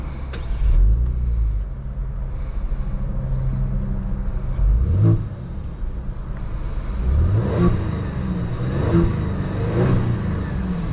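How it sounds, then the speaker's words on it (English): A 2023 Genesis G70 sedan on a test drive, engine revving up through repeated rising pulls and gear changes, a steady close cabin rumble with creaks and no talking. "let's go ahead and take this 2023 G70 on a test drive and see how it does."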